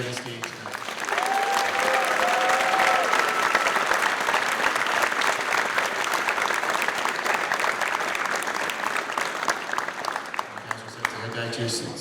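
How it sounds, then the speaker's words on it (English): Sustained audience applause at a school induction ceremony for National Honor Society and National Technical Honor Society inductees, a dense wash of clapping that swells and fades, with a voice speaking over it at the start and end. "And one more round of applause for everybody on the stage tonight."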